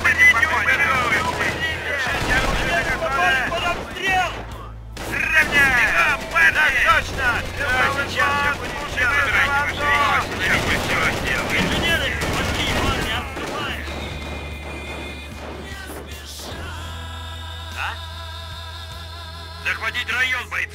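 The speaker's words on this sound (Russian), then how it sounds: "Позиция под обстрелом немецких войск." Gunfire and machine-gun bursts from the Company of Heroes war game crackle in dense volleys with booming low impacts, steady and loud throughout, as voices speak over the battle.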